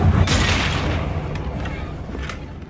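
The Incendio fire spell from the video game Hogwarts Legacy bursts out with a loud, booming whoosh at the start, then a rumbling, crackling burn fades away over the next couple of seconds with faint scattered pops.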